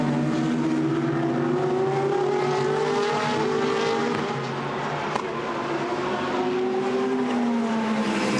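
GT race cars at Misano circuit roar past during a Blancpain GT Sports Club race, with several overlapping engine notes rising and falling as they sweep by, loud and continuous.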